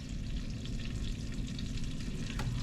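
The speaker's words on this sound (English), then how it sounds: "Let's get some oil heated. And get sauteing our vegetables." Vegetables sizzle and fry in hot oil for Guyanese metemgee, a dense, continuous crackling hiss close up with faint stirring, no voices.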